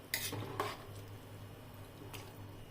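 Vegetable pulao with mint and chopped coriander being mixed in a pot: a few quiet spoon scrapes and clinks against metal, spaced out with a faint hum beneath, close but soft.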